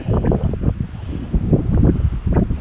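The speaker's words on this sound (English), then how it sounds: "it's really windy up here." Gusty wind buffets the microphone in low, rumbling bursts, loud and close, with no voices, high up at a dam along Old US 80.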